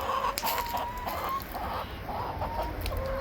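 Chickens cluck steadily in a chicken run at a backyard food forest in Peoria, Arizona, with many overlapping calls close by and no talk.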